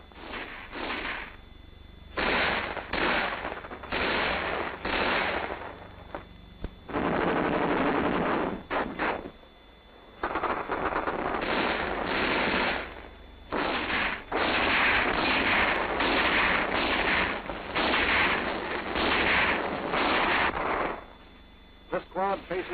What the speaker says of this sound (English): the enemy in the second squad's area of responsibility takes the squad under fire